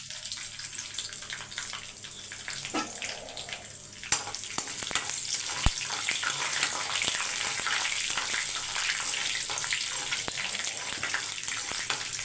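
Mustard seeds, curry leaves and a dried red chili crackle and splutter in hot oil, a busy, steady sizzle with sharp pops and faint stirring close by.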